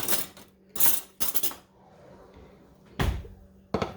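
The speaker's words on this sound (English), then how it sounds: "Now I'm going to cut into the salmon patty." A knife and fork cut into a salmon patty on a plate, giving several sharp scraping clinks of cutlery on the dish, separated by quiet gaps, close and fairly soft.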